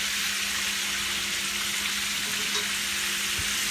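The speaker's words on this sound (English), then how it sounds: "I'm just frying up the last of my chicken" Steady crackling sizzle of chicken frying in hot oil, a constant hiss with small pops, close by and with no talking.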